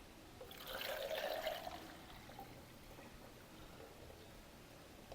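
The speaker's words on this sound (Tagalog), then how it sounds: "Sasalin ko na dito sa ating itlog." Cooled salt water is poured over eggs in a container to make salted eggs. A faint trickling pour swells briefly near the start, then fades to a quiet, thin dribble.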